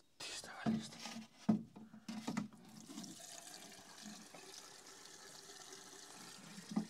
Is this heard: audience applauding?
no